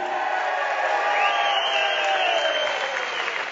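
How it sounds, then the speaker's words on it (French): A cabaret audience applauds the artists in a dense, continuous wave of clapping with faint cheers mixed in, loud and sustained throughout. "applaudissements pour les artistes."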